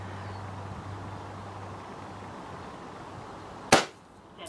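Brocock Concept Elite air rifle fired at a 90-yard target outdoors on a windy range, one sharp, close crack that cuts abruptly through a steady background of wind noise.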